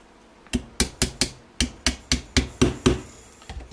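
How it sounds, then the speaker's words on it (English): A mainspring pin is driven into a Smith & Wesson M&P 9mm pistol with a hammer, giving about eleven sharp, evenly spaced metallic taps. They are close and fairly loud, with nothing else heard between the strikes. "is just hammer in the main spring"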